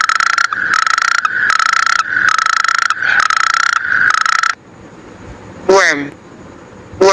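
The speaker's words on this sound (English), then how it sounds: "Toad." A toad croaks in a run of loud, evenly spaced pulsing calls, followed by a brief pause and a short sweeping call.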